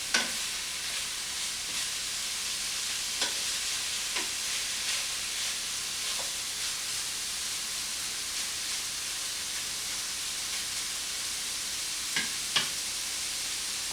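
Sausage sizzles steadily in a frying pan for Easter pie filling, a constant hiss with a few faint clicks of stirring, no voices.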